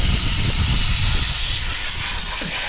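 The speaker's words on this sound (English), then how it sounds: "a garden hose doesn't give enough pressure to warp those fins in there" A garden hose sprays water through the fins of a Can-Am Renegade ATV radiator, giving a steady, close hiss of rushing water that holds at an even level throughout, with no talking.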